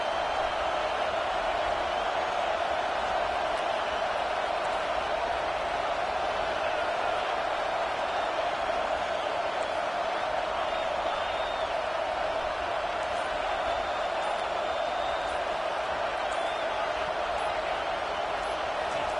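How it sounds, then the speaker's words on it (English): A college football stadium crowd in a video game, Georgia against Michigan, roars on third down as a steady, loud, unbroken wall of cheering that holds level through the whole stretch. "Decibels rising as the crowd gets behind this defense on third down."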